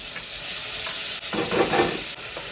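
Ground masala paste fries in hot oil for a chicken dish, giving a close, steady sizzle with stirring swells and no talking.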